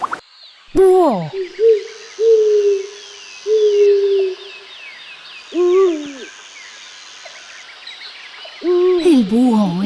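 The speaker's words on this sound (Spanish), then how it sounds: "¡Búho!" An owl hoots in a series of deep, clear calls with pauses between them, some single and some in short doubled bursts, loud and close against a faint background.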